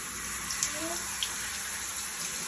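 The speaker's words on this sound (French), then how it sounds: "Dans la douche, on se brosse toutes les deux les dents." Water from a home shower runs in a steady, hissing stream while two people brush their teeth, with a few faint clinks over the constant flow.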